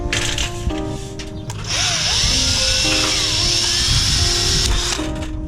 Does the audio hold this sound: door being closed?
no